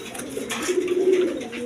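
Pigeons of various breeds, kept for sale with eggs and chicks, coo steadily and close by in a low, rolling murmur with no voices over it.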